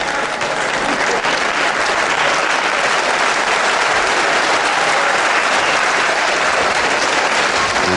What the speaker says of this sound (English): And just get that applause from this packed capacity crowd here at the Fairfield Halls, Croydon